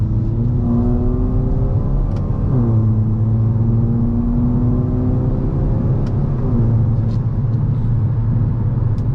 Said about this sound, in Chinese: 还可以拨过来手动模式，然后这边降档。